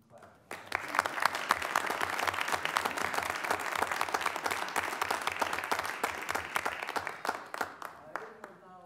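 An audience at a village board meeting breaks into applause, rising quickly to a steady, dense clapping that holds for several seconds before thinning into scattered claps and murmuring voices.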